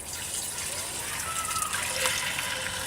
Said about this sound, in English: I'll use some of the water that comes out of this thing to fill up the fermenter,